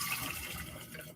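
Liquid pours steadily into a kitchen mixture, a continuous splashing, gurgling stream heard close and alone for a brief moment.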